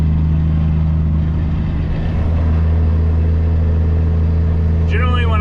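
A semi truck's engine pulls under light throttle while rolling down the far side of a hill, a steady loud low drone with a constant hum and no pauses, and a brief whine rising near the end.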